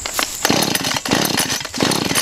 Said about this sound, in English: Well, it's fucking chainsaw time.